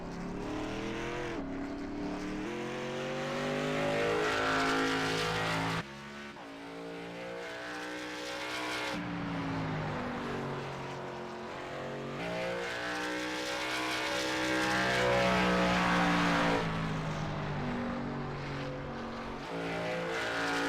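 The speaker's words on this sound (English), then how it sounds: "looks like Trevor Rapallo is the only one out there on the track" Race car engines roar loudly on an oval track with a wall, engine notes rising and falling as cars pass near, continuous over the whole stretch.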